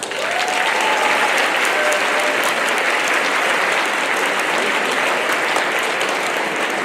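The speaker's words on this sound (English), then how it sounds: "Let's have one more round of applause for them." An audience at a high school graduation ceremony gives graduates and award winners a sustained round of clapping, a dense even wash of many hands in a large hall with no voices above it.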